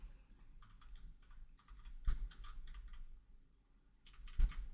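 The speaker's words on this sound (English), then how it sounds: "There's a mechanical keyboard if you can hear it." Mechanical keyboard typing sounds as quiet, close clicking keystrokes in irregular bursts with short pauses, heard alone.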